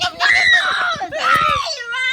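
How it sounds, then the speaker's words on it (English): A pet parrot screams in loud, harsh bursts, two main shrill squawks with a brief drop between them and a whistly tail at the end, close and dominant with nothing else over it. "why are you always screaming?"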